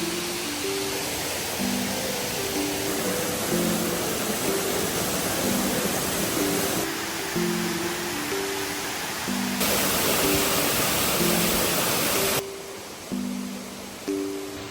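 The Lower Falls waterfall in Shenandoah National Park rushes as a steady loud hiss of falling water, with a melodic music track playing over it throughout.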